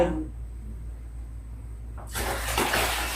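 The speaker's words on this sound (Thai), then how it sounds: "เราเทน้ำไปแล้วนะ" After a quiet stretch, water suddenly gushes and splashes into a bucket, a loud, continuous pour close by that carries on to the end.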